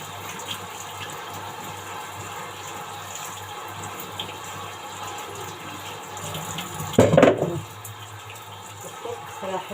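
Tap water runs steadily at low level while mud is rinsed off something, with a brief louder splash or gush near the end.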